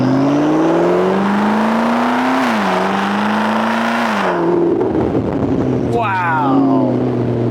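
A McLaren sports car engine revving hard and climbing through the gears, loud and close, with rising pitch sweeps that drop at each shift before a last short burst of acceleration.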